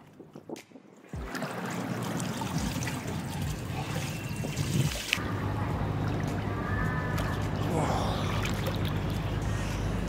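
Water in a hotel swimming pool at the ibis Bangkok Riverside, a steady close wash of splashing and churning that begins abruptly after a short quiet start and continues evenly to the end.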